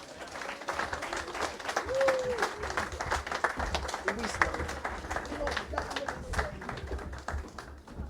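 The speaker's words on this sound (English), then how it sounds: "Big round of applause for all that." An audience at a school poetry slam claps for several seconds, scattered and moderately loud, with voices murmuring over the applause.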